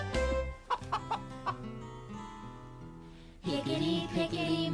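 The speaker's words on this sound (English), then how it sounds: "I had a little hen, the prettiest scene." A hen clucks in a few short, evenly spaced calls over soft sustained background music, followed by a louder musical passage near the end.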